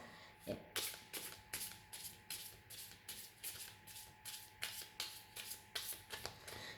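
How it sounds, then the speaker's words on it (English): Playing cards are shuffled in quick repeated riffles, a run of crisp fluttering bursts at an even pace, close and fairly quiet, with no talk over them. "So first I'm going to clear the cards."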